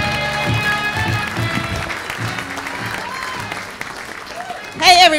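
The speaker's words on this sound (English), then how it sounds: "A big round of applause for Jo Ashley." Audience applause for comedian Jo Ashley at a comedy show, a steady wash of clapping mixed with music and voices, swelling into a louder burst near the end.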